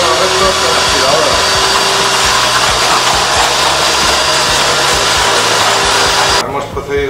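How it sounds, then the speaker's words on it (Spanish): A vacuum cleaner drones steadily and loudly while sucking up debris from a sanding table, its broadband whine holding for about six seconds before cutting off abruptly near the end. "Eliminamos los restos con la aspiradora."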